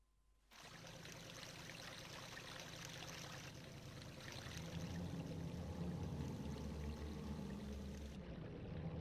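Steady rushing water from Zelda: Majora's Mask pours continuously for several seconds, the stream growing slightly fuller and deeper before stopping abruptly.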